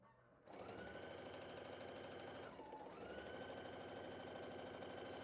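A Foth sewing machine with a scant quarter-inch Perfect foot stitches a quilt four-patch seam. It gives a loud, continuous close whir that starts abruptly, dips briefly as it slows, then runs on steadily.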